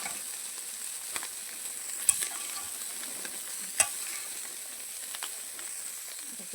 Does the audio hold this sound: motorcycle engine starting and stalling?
no